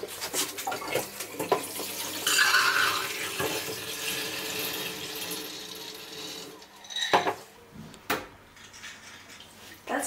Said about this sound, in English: What we need to do now is to wash and drain them again.